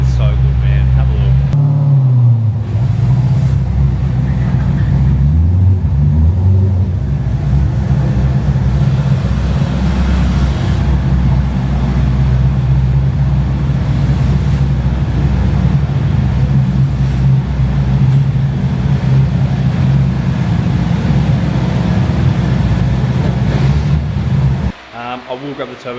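A 1000HP twin-turbo LS-powered car engine idles and revs steadily in a workshop, a loud continuous low rumble holding for most of the time before cutting out near the end, with a voice heard over it.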